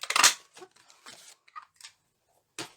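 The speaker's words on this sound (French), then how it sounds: "perforer deux cercles" A handheld paper punch cuts circles from dark blue and white craft paper for a Christmas card, giving a few sharp crunching snaps spaced across the moment, close and fairly loud with quiet handling in between.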